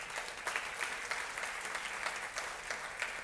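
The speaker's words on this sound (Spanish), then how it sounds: "Dale un aplauso al Señor" A church congregation claps together during a Sunday service, a fairly faint and rhythmic patter of many hands with soft regular peaks, heard at some distance.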